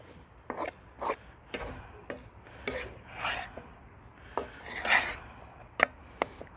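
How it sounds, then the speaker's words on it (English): Fried rice with shrimp being stirred in a pan, giving repeated scraping and clinking strokes of utensil on metal, irregular and fairly close, with no talking. "And we're just going to stir all this up."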